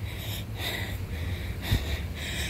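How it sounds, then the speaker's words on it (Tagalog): Heavy, rhythmic panting of a person out of breath while walking uphill toward a church, close and steady with repeated breathy bursts and no talk. "Naririnig nyo na ang aking hingal."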